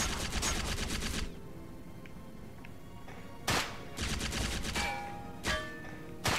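Bursts of automatic gunfire from agents being shot at in the video game Secret Service, rapid loud volleys at the start, a quieter gap, then more bursts and sharp single shots toward the end.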